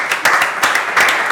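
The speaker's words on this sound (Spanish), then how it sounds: "¿Y mi aplauso?" Brief burst of audience applause at a panel discussion, a dense patter of many hands clapping in a room, fairly loud and close, with no talk.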